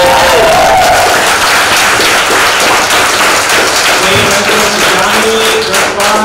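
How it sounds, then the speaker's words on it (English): Loud audience applause at a reading event's fifth anniversary, dense continuous clapping from a crowd in a bar with some voices and cheers mixed in. "Please round of applause for everybody."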